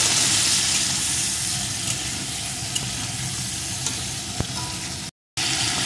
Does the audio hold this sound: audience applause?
no